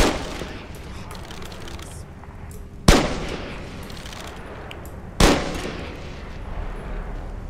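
Two loud flintlock pistol shots from a gold flintlock pistol mod in Skyrim, a few seconds apart, each a sharp crack with a short decaying tail over a steady background hum.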